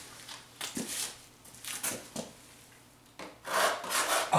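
A fillet knife scrapes residue off a part of a 1985 Yamaha YTM 200er three-wheeler in short, rasping strokes, several separate passes close up with a longer, heavier scrape at the end.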